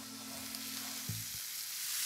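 Lamb browning in a hot pan for a sweet-and-sour braised lamb dish with tamarind gives a steady, close sizzle and frying hiss throughout, with a brief low thump partway in and no talking.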